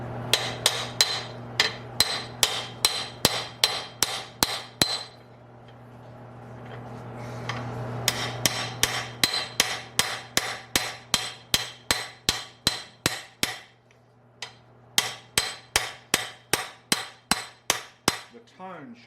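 A hammer drives a pinion bearing race into a Mercedes W109 differential, heard as many evenly spaced, ringing metallic strikes in steady bursts with brief pauses, close and loud, with a sustained ring underneath.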